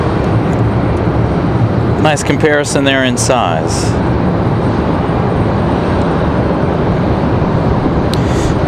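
Continuous broadband jet roar of airliners at Raleigh-Durham International Airport fills the whole stretch, loud and steady, while someone briefly talks over it near the start.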